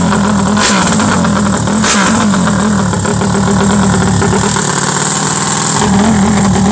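A freshly repaired motorcycle engine runs close and loud after being started, its rough idle broken by several sharp revving surges, with no voices.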